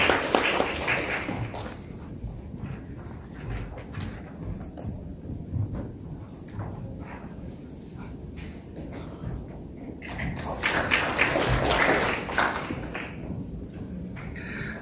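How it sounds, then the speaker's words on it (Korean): At a human rights forum in Busan, the audience applauds the arriving speaker with a diffuse round of clapping that sounds near the start, thins to a softer patter in the middle and swells again toward the end. "박수로 맞이해 주시기 바랍니다."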